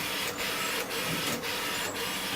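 An inkjet-style printer running a print job, a steady mechanical whir with four evenly spaced carriage sweeps passing back and forth, close and fairly loud, no voices.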